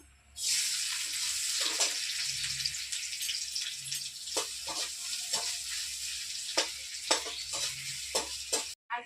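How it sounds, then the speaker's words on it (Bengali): Steady, bright sizzling of coconut shavings frying in a pan for suji halwa, with intermittent scraping and stirring clicks running throughout. "এবার আমি নারকেলের কুচিগুলো ভেজে নেবো একটু"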